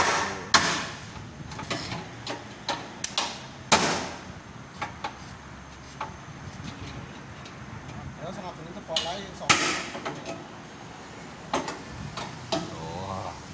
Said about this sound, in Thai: นี่ค้อนใหญ่นะตัวนี่นะ